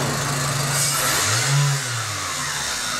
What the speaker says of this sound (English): we rev the engine up, we lose vacuum